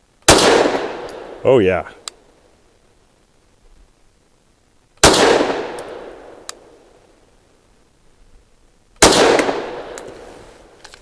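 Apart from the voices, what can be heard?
Canik METE MC9 pistol firing shots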